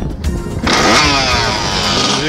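A Kawasaki 80cc motorcycle engine roars to life after a brief quiet moment. It revs hard and close, a loud, raspy whine with rising pitch sweeps, and no voices are heard.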